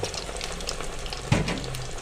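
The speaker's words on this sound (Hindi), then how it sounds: "पहले हम इसको फुल आंच में फ्राई करेंगे" Chicken fries in hot oil over a full flame, a steady close sizzle with a brief louder spatter burst midway, no speech.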